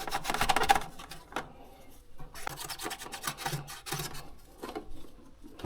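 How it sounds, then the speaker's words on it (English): Old gasket residue is scrubbed off a Mercedes CLK W209 tail light with mineral spirits, making close, uneven rasping and rubbing strokes in short bursts with brief pauses. "Remove the old gasket and thoroughly clean off any remaining residue."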